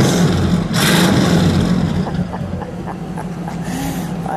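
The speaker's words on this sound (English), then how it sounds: "Go ahead, give me a rev, would you please? Let's hear that tripod." A 1959 Pontiac Bonneville convertible's Tri-Power V8 revs up hard and loud nearby, surging to a peak early on, then settling back into a rumbling fast idle with a few faint clicks.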